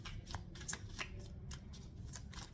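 A tarot deck is shuffled by hand, giving a run of quick, crisp riffling bursts and soft card slaps in an uneven rhythm, close and fairly quiet, with no talking.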